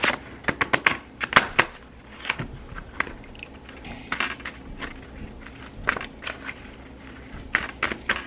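Tarot cards being shuffled by hand, a run of quick crisp riffling clicks and soft papery flutters that come in bursts, close and fairly quiet, with no talk.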